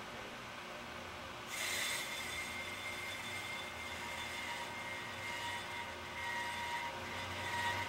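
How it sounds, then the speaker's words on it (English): A Pro-Cut PFM 9.2 on-car brake lathe skims a brake rotor, its cutting bit producing a steady, fairly loud hissing grind that swells at about the 1.5-second mark and then continues evenly over a low machine hum, with no voices. "you can still hear the sound of the cutting bit as it skims the surface"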